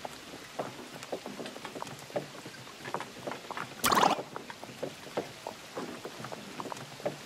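Rain in The Oregon Trail video game, light scattered patter of drops on a surface with one brief louder splash partway through, steady and fairly close, no voices.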